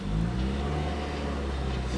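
A Ford Focus engine runs with a steady, deep exhaust drone, close and moderately loud, with no distinct pops standing out.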